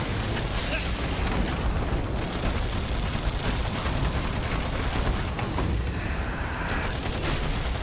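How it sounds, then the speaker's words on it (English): Airstrike in the video game Battleborn: a dense, continuous barrage of booming blasts and rumbling impacts, loud and sustained throughout with no pauses. "I guess I'm just gonna airstrike this fucker"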